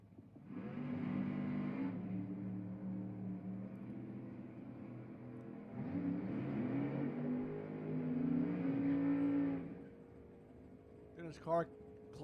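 Chevy drag racing car at an NHRA event at Houston Raceway Park, heard as a sustained engine roar that fades and swells again, with a commentator talking over it throughout.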